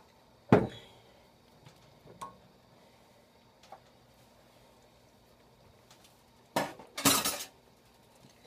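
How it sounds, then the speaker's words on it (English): A lid clinking onto a plate in a kitchen, a sharp ceramic clack near the start and a louder pair of clattering knocks near the end, with quiet gaps between. "I'm going to cover my plate with a lid just to keep it warm"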